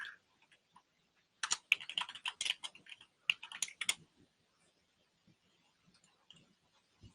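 Fingers type on a computer keyboard in two quick bursts of crisp, close key clicks separated by a pause, then a few scattered taps trailing off in a quiet room.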